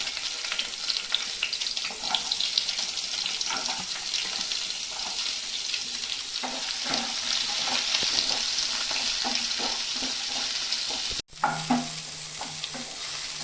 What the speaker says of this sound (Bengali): আর পনিরটা যে ভেজেছি ওই তেলটার মধ্যে আমি এটা অল্প ভেজে নেব